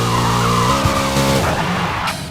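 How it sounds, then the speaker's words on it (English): In Forza Motorsport a car does a reverse burnout while drag tuning, with loud close engine revving and sustained tire squeal that drops in pitch and fades near the end. "Let's get these tires hot. Do reverse burnouts."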